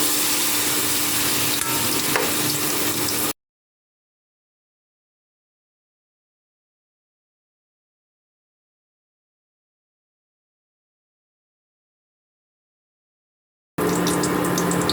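Banana blossom okoy fritters fry in hot oil with a loud, dense crackling sizzle. It breaks off into a long silent gap, then returns briefly at the end.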